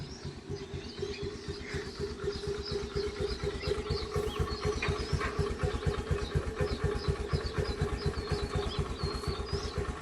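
A Honda Activa scooter engine runs at a close, steady idle with an even rapid putter for the whole stretch, with faint chirps high above it.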